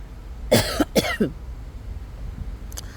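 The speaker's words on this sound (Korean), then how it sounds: "제가 비염이 있어서 그런지 기침이 빨리 안 나아요" Three or four sharp coughs from a person with rhinitis in a quick burst close to the mic, then quiet room tone with a faint click near the end.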